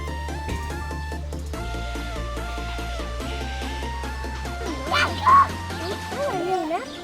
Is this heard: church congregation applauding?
no